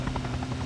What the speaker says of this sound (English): There's a heli above us.